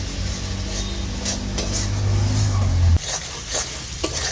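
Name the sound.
sautéing ginger garlic tomato masala for rajma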